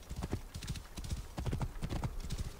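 Horse hooves clip-clop in quick, uneven bursts of trotting in Assassin's Creed Origins, fairly close and crisp, with no talk over them.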